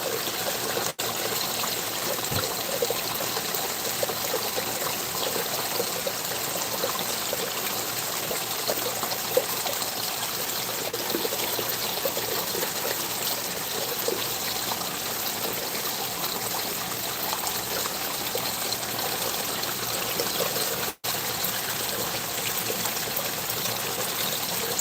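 A water stream pours down steadily through rocks, a constant close rushing trickle with no pauses and no voices.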